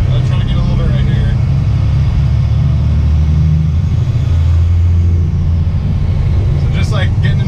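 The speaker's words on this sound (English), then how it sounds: "it's making that turbo sound all the time" A 12v Cummins diesel truck with a cone air filter rumbles loudly and steadily from under the hood while its turbo spools, a continuous close engine drone throughout.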